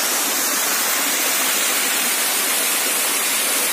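Steady, loud rush of a river flowing past a discharge point at an accident site, a continuous broadband roar pouring close by, with no voices.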